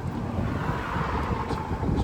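Traffic rushes past outdoors as a steady broadband roar with gusty wind buffeting the microphone, a couple of passing cars swelling slightly toward the end.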